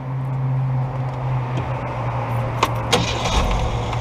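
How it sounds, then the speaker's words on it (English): An old truck's engine idles steadily with a low, even hum, heard close inside the cab, with a few light clicks and rattles near the end. "Geez, the old truck's running great"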